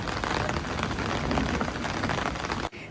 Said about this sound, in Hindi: इतनी बारिश हो रही है, हम निकल ही नहीं पा रहे थे.